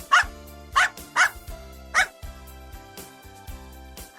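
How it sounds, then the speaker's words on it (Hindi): A dog gives four sharp, fairly loud barks in a quick uneven series, then goes quiet apart from light background noise. "कुत्ता"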